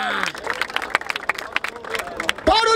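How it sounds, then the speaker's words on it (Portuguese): A rap battle crowd claps and cheers in brief, uneven bursts, mixed with voices and a shouting host, a lively but short spell of audience noise. "Palmas pra essa batalha, família!"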